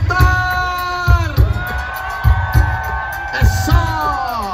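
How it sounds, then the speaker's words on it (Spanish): A crowd roars and whoops in repeated surges, with a loud amplified voice riding over the cheering in bursts. "Así es que todos a gritar."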